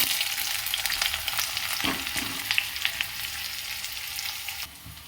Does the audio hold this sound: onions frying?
yes